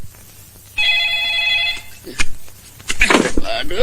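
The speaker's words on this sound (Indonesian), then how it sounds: "Itu juga telepon berderang-derung" A telephone bell ringing in a 1993 Indonesian comedy film scene, a bright trilling ring lasting about a second, followed by clattering noises and a person talking.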